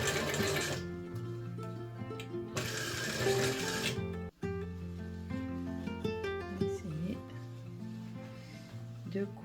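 A sewing machine runs steadily, stitching shirring elastic on fabric, a close rapid mechanical whir with a brief stop partway, while someone talks over it.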